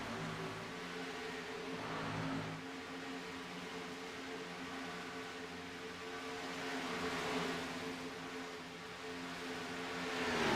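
Race cars circle a track, heard as a steady, distant engine drone that swells gently and fades without pause.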